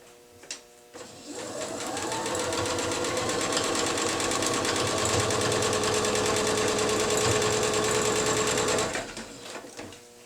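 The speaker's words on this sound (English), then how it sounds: "then we'll sew along this line" Sewing machine stitching a quilt triangle, a fast steady mechanical whir that starts after a brief pause, runs evenly for about eight seconds close by, then stops.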